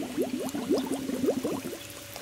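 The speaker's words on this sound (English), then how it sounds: "Have it fill up with water" Water gurgling and bubbling as it fills a homemade fish pond, a steady close trickle with rapid bubbly pulses and no voices.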